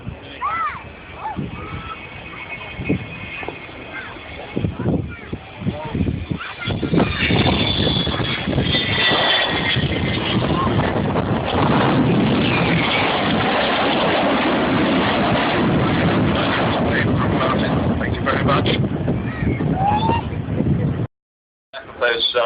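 An Avro Vulcan bomber in a flying display at RIAT 2011 roars past, its Olympus jet engines producing a loud, sustained broadband rumble that swells and holds for about twenty seconds, with a commentator's voice over it.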